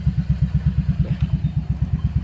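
A 2020 Honda Beat CBS scooter engine idles with a steady, rapid low thumping pulse, close and continuous, with no talk over it.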